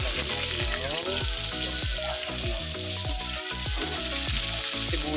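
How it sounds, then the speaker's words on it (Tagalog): Tulingan (skipjack tuna) fish frying in hot cooking oil in a pan, a loud steady crackling sizzle with sharp pops throughout, close up, no talking. "partneran natin ng pritong tulingan. Ayan siya, iprito na natin."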